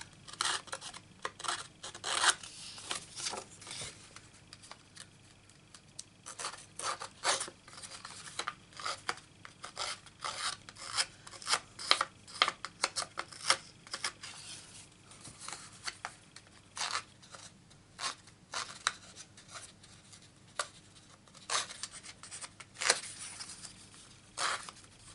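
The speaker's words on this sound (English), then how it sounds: "this tool here, which distresses the edges" A handheld distressing tool rasps along the edges of paper card in quick, repeated scraping strokes, close and fairly quiet, continuing steadily with no talking.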